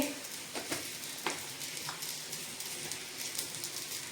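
Garlic and cumin hit roasted green chillies in a hot pan, giving a soft, steady sizzle with light crackles and a few stirring scrapes, quiet and close without any voices.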